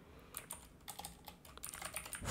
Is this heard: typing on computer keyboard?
yes